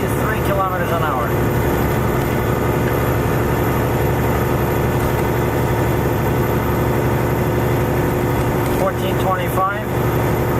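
A heavy haul truck's engine labours up a big hill at about 1400 rpm and 43 km/h, a steady, loud low drone with constant rumble throughout and brief higher whines near the start and end.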